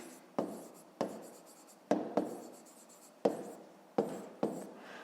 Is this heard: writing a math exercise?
yes